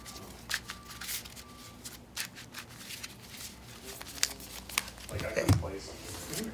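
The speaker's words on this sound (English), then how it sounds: "Let me shuffle this a little bit." Magic: The Gathering cards shuffled by hand at a Pioneer tournament table, a series of quick riffling and snapping bursts, faint and close, amid background talk.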